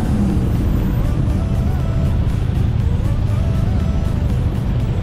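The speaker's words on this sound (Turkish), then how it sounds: "Bakın arkamda da Tayland'ın minibüslerinden var." A Thai minibus rolls past on a busy street, a steady engine and tire rumble blending into dense traffic noise, close and constant with no speech.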